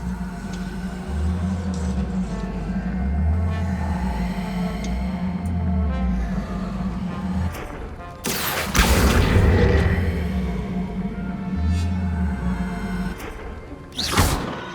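A fiery Incendio spell is cast in Hogwarts Legacy: a sudden broad whooshing burst rises over steady in-game music, and a second short flare comes near the end.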